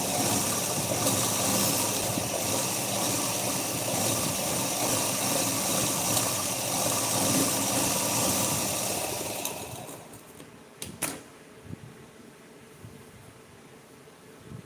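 A sewing machine stitches a simple four-tuck blouse, whirring in a steady, continuous drone for about ten seconds before stopping, followed by a few faint clicks and quiet room noise.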